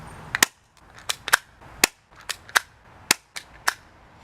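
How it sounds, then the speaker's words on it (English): A Taurus Millenium PT-111 airsoft pistol fired repeatedly at a birdhouse outdoors, about ten sharp snapping shots at an uneven pace, each crisp and close with quiet gaps between. "I'm gonna take a shot at the birdhouse on the left."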